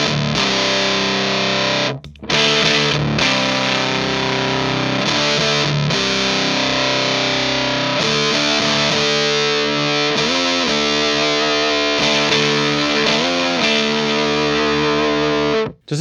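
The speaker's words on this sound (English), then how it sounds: "It's a Mark III tone bender clone" An electric guitar runs through a Colby Park fuzz pedal, a Mark III Tone Bender clone, playing thick, saturated chords and riffs continuously for about sixteen seconds, with a few brief dropouts between phrases.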